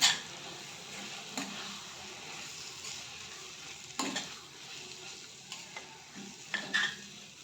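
Baingan bharta being stirred and mixed in a pan, a quiet continuous sizzle with occasional soft spatula taps and scrapes, fairly faint and without speech.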